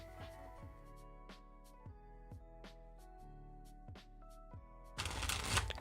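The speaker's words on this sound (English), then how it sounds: "Final shuffle." Tarot cards being shuffled in a steady series of crisp riffling slaps against a faint background hum, ending in a louder, denser flurry of card noise.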